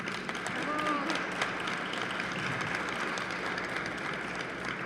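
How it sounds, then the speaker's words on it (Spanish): Audience at a book fair event applauding, a steady wash of clapping from a crowd in a hall, moderately loud, with a voice speaking over it. "Por favor, un aplauso para él también."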